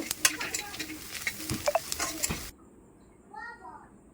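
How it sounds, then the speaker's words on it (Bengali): Onions frying in a pan crackle and sizzle with stirring scrapes and clatter for about two and a half seconds, then the sound cuts away to quiet with a brief voice. "দেখতে পাচ্ছেন পেঁয়াজটা আমি লাল লাল করে ভেজে নিচ্ছি।"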